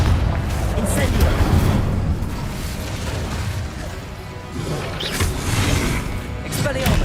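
Spell explosions crash and boom in the video game Hogwarts Legacy, a steady run of loud bursts and impacts over rumbling battle noise, with a voice calling out spells throughout.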